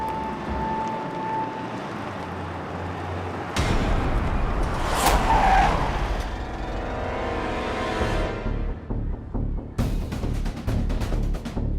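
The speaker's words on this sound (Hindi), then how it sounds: "अब गाड़ी चला रही है, रेस कर रही है।" A car engine revving loudly as it races along a road, rising to a strong roaring whoosh and then a fast burst of sharp rattling pulses, close and loud.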